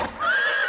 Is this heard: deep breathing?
no